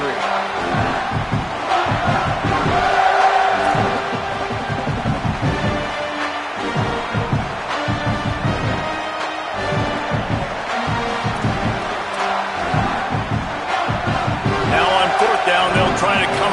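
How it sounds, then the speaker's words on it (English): A loud, sustained roar from a football stadium crowd during a field goal attempt in a Houston vs Oregon game, a constant dense wash of noise with rhythmic thumping under a commentator's voice. "This crowd trying to do its part to get inside the kicker's head."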